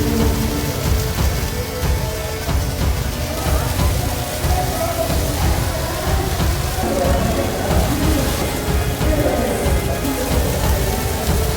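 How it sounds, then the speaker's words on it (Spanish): Heavy rain pours steadily during an Independence Day Grito celebration in Puerto Vallarta, a dense, loud hiss on surfaces and a canopy, with voices of a crowd sheltering mixed in throughout. "Sí se dejó venir machín la lluvia"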